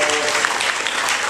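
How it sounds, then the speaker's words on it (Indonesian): Loud, dense clapping from a group, steady throughout with no gaps. "kasih tepuk tangan"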